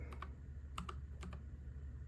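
Keys are pressed on a NuPhy Air75 wireless 75% gaming keyboard: a few sparse, quiet clicks in small pairs, close by but faint.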